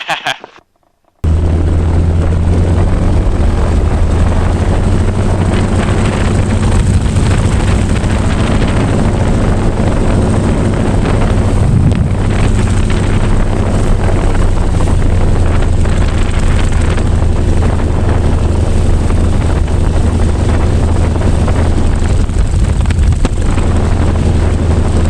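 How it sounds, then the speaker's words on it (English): A 1945 SNJ Texan propeller aircraft in flight on an aerobatic ride in South Carolina gives a loud, unbroken engine drone mixed with heavy wind roar, continuing throughout after a brief quiet start. "introductory aerobatic flight in our 1945 SNJ Texan out here in 96, South Carolina"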